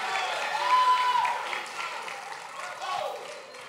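A church congregation at a Monday night revival service claps in a sustained, dense wave of applause, loud and near, while a voice carries on over the clapping.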